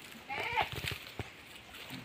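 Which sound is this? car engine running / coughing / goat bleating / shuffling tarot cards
goat bleating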